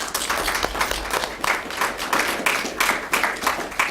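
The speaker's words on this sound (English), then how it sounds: "So I'd like to give them a round of applause for stepping up for that." Applause from an audience at a Vernon Township council meeting, a steady patter of many hands clapping at moderate loudness with faint background murmur.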